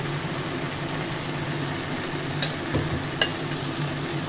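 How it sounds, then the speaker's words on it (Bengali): Fish heads fry in a pan with cumin and coriander powder, giving a continuous soft sizzle with a few brief stirring clacks, fairly quiet throughout. "এই পর্যায়ে মাছের মাথা দুটো আমি এর মধ্যে দিয়ে দিলাম।"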